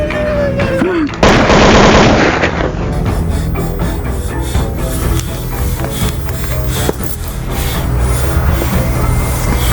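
A burst of rapid gunfire rattles out loudly and close, followed by scattered cracks amid a dense, noisy background.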